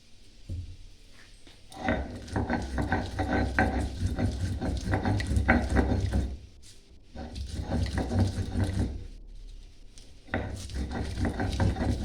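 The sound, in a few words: grinding ingredients on a stone slab (shil)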